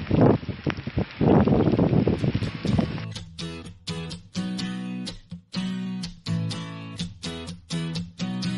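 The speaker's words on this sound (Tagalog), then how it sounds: "Lakas ng hangin." Strong wind during the first snowfall of the year, in autumn, roars and buffets the microphone loudly for about three seconds, then gives way to music.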